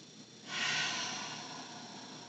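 A yoga instructor holding downward facing dog takes one long, audible breath through the nose, a soft airy rush that swells after half a second and slowly tapers, close and alone.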